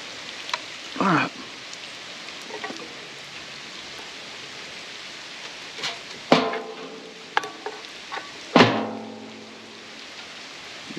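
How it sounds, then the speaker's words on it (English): Steady, soft rain falls outdoors during work on a furnace blower wheel, with a few sharp metallic knocks and clanks standing out above the hiss of the rain. "as soon as I get out here, it starts to rain"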